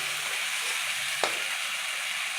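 Ginger-garlic paste with cumin and coriander powder fries in a pan with a soft, even sizzle and one brief clink partway through.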